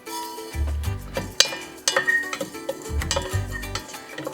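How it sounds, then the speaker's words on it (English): Fenugreek seeds dry roasting in a pot, with light scraping and stirring against the metal, a few sharp clinks of a utensil, and short low bumps as the pot shifts, close and fairly quiet. "take that fenugreek, and you're going to dry roast this in the pot"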